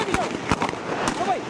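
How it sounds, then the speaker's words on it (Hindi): Gunfire from the Lyari gang war in Karachi, heard as a played recording: several sharp cracks spaced irregularly at mid distance, with a thin rising whistle-like tone and some voice underneath. "अचानक चारों तरफ से फायरिंग शुरू हो जाती है"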